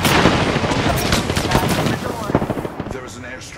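Dense, loud burst of rapid gunfire and blasts from an airstrike during an Apex Legends match, a continuous rattling barrage with sharp bangs throughout.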